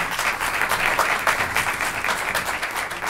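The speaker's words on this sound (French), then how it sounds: "Tenez un applaudissement, s'il vous plaît." Dense, lively audience applause at a conference on African history at ILERI, a continuous wash of many hands clapping at full strength from start to finish with no voices on top.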